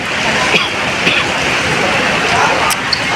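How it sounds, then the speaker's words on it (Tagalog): Light drizzle falls after heavy rain onto a soaked road, a steady broadband hiss with a few soft drip ticks, fairly close and continuous. "Kanina malakas na malakas, ngayon parang ambon-ambon na lang."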